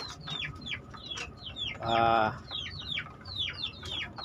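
Young chicks peep repeatedly in quick high chirps around a two-level feeder, with a louder hen-like cluck rising briefly in the middle.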